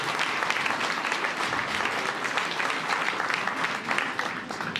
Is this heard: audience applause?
yes